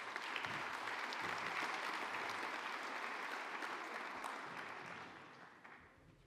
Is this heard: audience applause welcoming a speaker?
yes